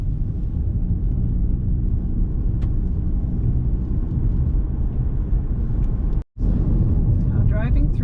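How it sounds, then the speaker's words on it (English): A car driving east from the west entrance of Fundy Trail Provincial Park, steady close low engine and road rumble with a brief dropout near the end. "driving through from the west entrance heading east"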